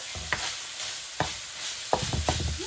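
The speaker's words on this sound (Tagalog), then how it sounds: "Let's going to put maraming garlic." Garlic goes into a hot pan for spaghetti sauce, with a light sizzle under three or four close, quick stirring scrapes from a spoon against the pan.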